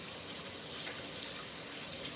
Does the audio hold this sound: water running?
yes